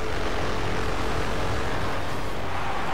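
A propeller airplane drones loudly and steadily in the racing game Forza Horizon 2, its engine noise filling the whole stretch with no break.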